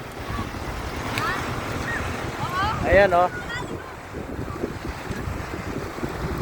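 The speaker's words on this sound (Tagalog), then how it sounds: "medyo malakas ang hangin kaya malakas din ang alon" Strong wind buffets the microphone while sea waves wash and rumble steadily at a beach; a person speaks briefly partway through.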